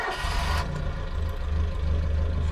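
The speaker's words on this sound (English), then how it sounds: "We shall start the engine." A Citroen DS engine catches after a brief start-up burst and settles into a steady, low rumbling idle that sounds close and fairly loud.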